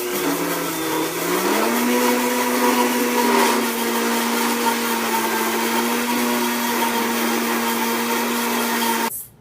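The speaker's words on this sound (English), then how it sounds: "So you have to slowly pour the oil in as the blender is on a high speed." Blender running at high speed while oil is poured in to make mayonnaise, a loud steady motor whine that rises slightly in pitch early on and then cuts off at the end.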